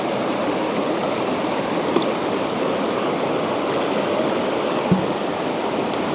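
Gold-panning classifiers are rinsed with rushing water outdoors in the evening, a steady loud wash of flowing water with a faint knock or two, no talking.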